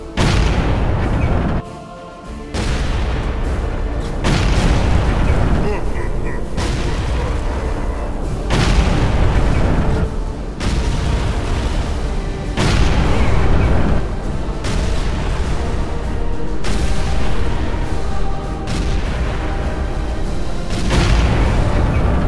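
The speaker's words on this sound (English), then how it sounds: "The Stomper has a belly cannon." Stomper walker's belly cannon firing in Warhammer 40,000: Kill Team, a run of loud, heavy booming blasts repeating every couple of seconds, dense and continuous with no talk.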